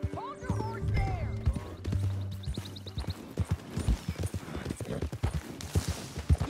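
Horse hooves clip-clop in Red Dead Redemption 2, first under a speaking voice and game music, then clear and rhythmic as a steady, close trot.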